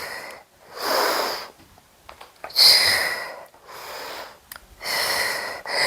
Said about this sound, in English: You can hear me breathing.